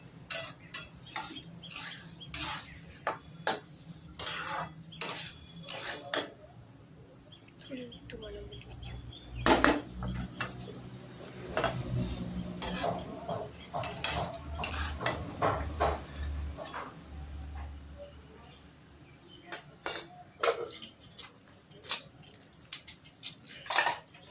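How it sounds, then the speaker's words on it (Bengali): Rice and lentils for khichuri are mixed in a bowl with a spoon, giving irregular clinks and scrapes that come and go, with someone speaking at times and birds chirping faintly in the background. "চাল আর ডালটা আমি ভালো করে একসঙ্গে মিশিয়ে নিলাম"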